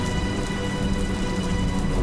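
Steady rain driven by strong wind in a Bengali animated cartoon scene: a continuous, even wash of dense downpour noise that holds at the same level for the whole stretch, with no voices over it.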